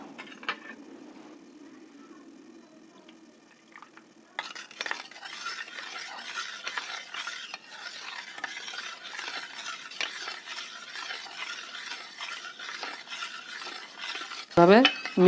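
Amla, shikakai and reetha extract stirred into homemade herbal shampoo, quiet at first, then a long run of close rapid spoon scrapes and clinks against the container, ending in a sharp knock.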